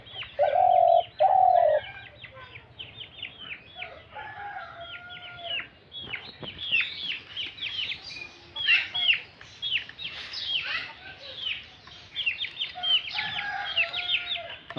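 A caged decoy bird calls repeatedly, loud cooing and crowing-like phrases coming in bursts with short pauses, close to the listener, with no one speaking.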